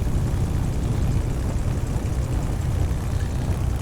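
P-51D Mustang piston engine taxiing in Microsoft Flight Simulator, a steady deep rumbling drone at low power, loud and continuous without pauses.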